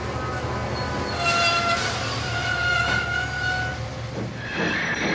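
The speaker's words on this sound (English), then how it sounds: "Whereas Mavis's brakes sound like this." Diesel shunter Mavis from Thomas the Tank Engine applies her brakes, a steady close rumble carrying drawn-out, high metallic squeals that rise and fade over about five seconds.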